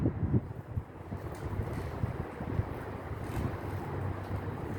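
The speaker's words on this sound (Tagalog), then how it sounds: "Mahangin pati." Steady wind gusting against the microphone, a continuous low rumble and buffeting with no speech.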